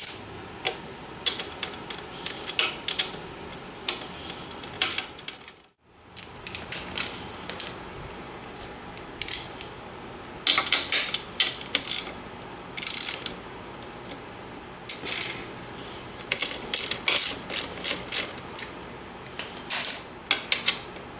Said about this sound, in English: Reach in with the ratchet and bust it loose.